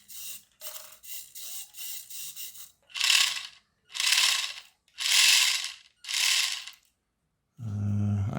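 A converted cheap toy RC car's electric motor whirs in a run of short bursts, first several quick buzzy pulses, then four longer louder whines with pauses between, ending in a lower hum.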